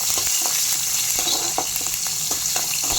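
About ten peeled garlic cloves and a green chili frying in a pan give a constant loud sizzle, with faint stirring taps throughout.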